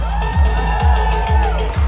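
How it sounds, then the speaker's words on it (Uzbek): A crowd at a youth forum concert in Andijan cheers and whoops for the DJ over thumping, loud music, with rhythmic beats pulsing beneath the shouting. "DJ'imizga bir guldiroz qarsaklar bo'lsin."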